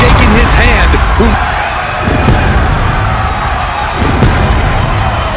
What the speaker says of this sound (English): The crowd is singing for Seth freaking Rollins